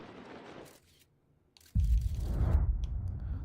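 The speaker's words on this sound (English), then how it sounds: "That's the sound of the planet exploding" A planet exploding in the space exploration video game Outer Wilds, a sudden deep rumbling boom that breaks in after a quieter stretch and holds as a loud sustained roar.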